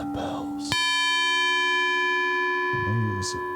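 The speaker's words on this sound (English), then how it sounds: "so now we have the bells." Synthesized bell tones from an Ableton Move groovebox ring out with a sharp attack and a long, sustained metallic decay, with brief murmured talk before and near the end.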